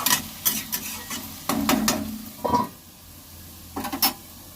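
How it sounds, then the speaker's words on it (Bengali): Snake gourd fries in a pan, with a soft steady sizzle under sharp scraping and stirring strokes, spaced bursts of utensil contact with quieter gaps between, no voices. "চিচিঙ্গা ভাজাতে এবার হলুদ দিয়ে দেব"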